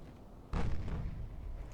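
A 16-inch naval gun salvo in the naval warfare game Ultimate Admiral: Dreadnoughts, a single deep booming report that rolls on and fades over low background noise.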